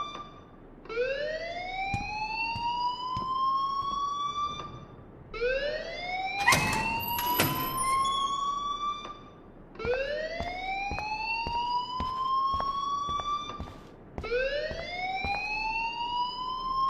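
School alarm ringing in the video game Life is Strange, a loud electronic siren rising in long repeated sweeps, four cycles with brief gaps between them, with no voices over it.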